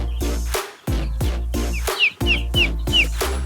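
Three-day-old broiler chicks in a coop call over and over, loud and close, with bright rising chirps and clucks in a fairly steady rhythm and no talking.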